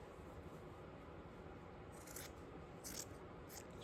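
Scissors trim sherpa fabric in a few short, close snips that rise briefly above a quiet, hissy background.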